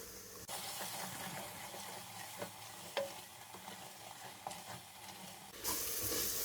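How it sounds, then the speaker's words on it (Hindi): Turmeric, coriander powder and other spices roasting in a pan for degi aloo gosht salan, a quiet crackling sizzle with faint scattered stirring scrapes, ending in a brief louder burst. "3 मिनट हम मसाले को भून लेंगे।"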